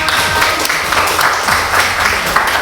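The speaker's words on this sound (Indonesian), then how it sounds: "kasih tepuk tangan untuk kalian semua" A school audience of students claps at an Indonesian counselling session, dense continuous applause at close range for a few seconds with some sharper individual claps.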